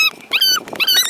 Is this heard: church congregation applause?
no